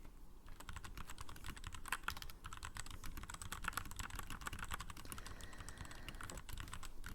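Typing on a mechanical keyboard with quiet, rapid, continuous clicking keystrokes in a soft, close, steady flurry, with no voices.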